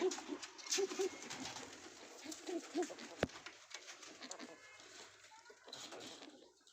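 Caged pigeons, a pair kept with their chicks, coo softly in repeated low calls close by, with light rustling and a sharp knock partway through.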